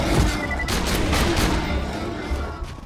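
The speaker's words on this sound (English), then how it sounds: "Oh, that's a good shotgun." Shotgun blasts in the video game Borderlands 2, several booming shots in quick succession over a busy, continuous game soundscape.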